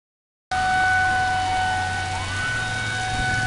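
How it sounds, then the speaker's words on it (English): Local fire department sirens wail in the distance during a severe rainstorm, a sustained rising and falling tone over a low background rumble after a brief silence. "now I hear sirens from the local fire department"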